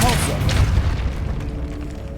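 Depulso spell cast in Hogwarts Legacy, a loud booming burst at the start that fades into a rumbling decay, with game sounds and a voice underneath.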